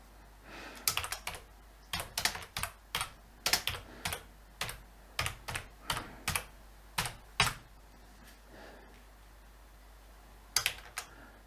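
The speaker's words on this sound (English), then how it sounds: "type something in here." Keys clatter on a PC computer keyboard in short bursts of clicks, grouped irregularly with a long pause near the end, close and fairly quiet in a still room.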